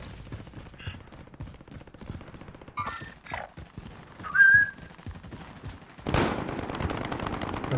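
Bursts of video game gunfire and machine-gun rattle crack against a quieter background with a whistling tone, building to a loud sustained volley near the end.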